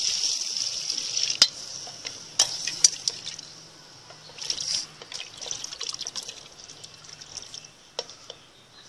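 Water goes into a pan of frying potatoes, bringing an airy hiss and bubbling sizzle scattered with sharp crackles and pops. It is fairly quiet and continuous, with no voices.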